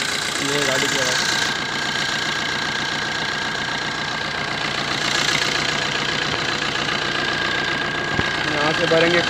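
Close, steady idle of a first-generation Maruti Suzuki Swift Dzire engine in neutral, a continuous rumbling hum with a slight knocking texture and no pauses.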